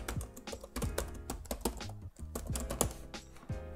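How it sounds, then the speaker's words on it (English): Rapid typing on a computer keyboard, uneven bursts of close, crisp key clicks with brief pauses between runs, no voices. "type a whole bunch of stuff in here"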